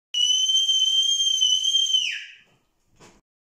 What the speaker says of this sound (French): Comment faites-vous quand vous avez un joueur qui siffle entre les échanges, Christophe?